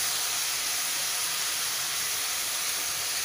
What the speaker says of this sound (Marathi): कांदा आपल्याला छान 5 ते 6 मिनटं परतून घ्यायचा आहे.